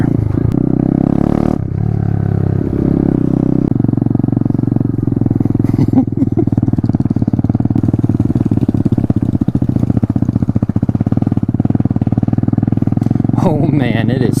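Small Grom or Z125 mini motorcycle engine chugging and revving at low speed through mud on a trail ride, close and steady with clattering and occasional scraping, a person speaking over it at times.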